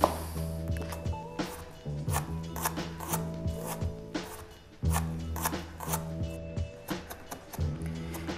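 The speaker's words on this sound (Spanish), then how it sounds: "picamos un poquito de cebolla" A knife chops onion finely on a board in a home kitchen, with quick, close, irregular strokes in bursts and no talking.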